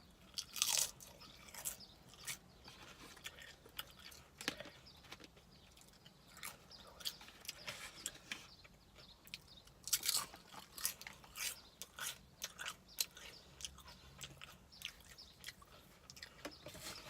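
Close, crisp crunching and biting on crunchy Taco Bell nachos, irregular bites and chewing spread across the stretch with quiet gaps between, no talking.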